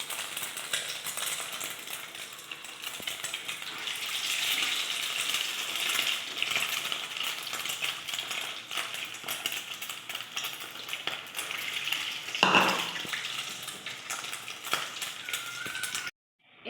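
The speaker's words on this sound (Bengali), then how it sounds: "এইভাবে দেখুন লাল লাল করে ভেজে নিতে হবে।" Beaten egg with a potato filling frying in a pan, making a moderate, steady sizzle with scattered small clinks and a brief louder scrape before it stops.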